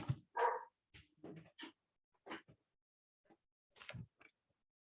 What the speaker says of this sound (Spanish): Disculpen ahí los perros.